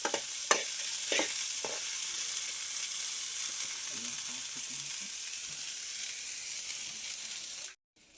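Bitter gourds fry in a pan with tomato added, a steady close sizzle running throughout with a few early scrapes and clicks, cutting off abruptly near the end.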